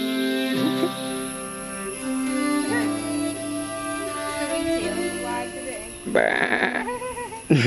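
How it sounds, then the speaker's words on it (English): Goats in Munnar, India bleat several times over a steady outdoor background, with a louder, harsher bleat near the end; people talk faintly at points. "We're getting so distracted by goats"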